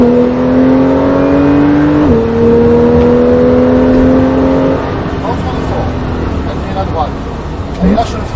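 Porsche 911 Carrera S engine on track at the Nogaro circuit, a steady loud drone that shifts pitch with a gear change and continues under an instructor's talk.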